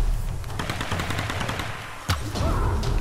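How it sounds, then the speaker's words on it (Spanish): Rapid automatic gunfire from the Tomb Raider video game rattles in dense bursts throughout, with a louder sharp shot near the end over a rumbling game backdrop. "¿Quién me está disparando?"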